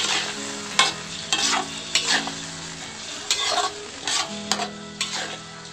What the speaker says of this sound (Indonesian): Lalu diaduk-aduk biar semua bumbunya bercampur rata dengan tahunya.